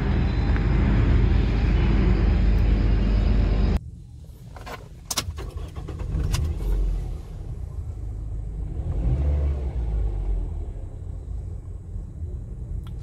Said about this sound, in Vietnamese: Xe thì đã nổ máy rồi.